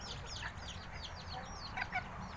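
Chickens and bantams living together with a small group of young birds, soft clucking and chirping calls scattered close by over a steady low background murmur.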